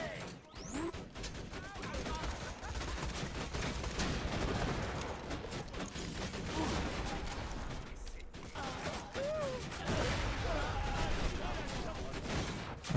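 Rapid game gunfire from a deployed automatic turret in Borderlands 2, a dense, steady barrage of shots running the full length with mechanical clatter and a voice talking over it.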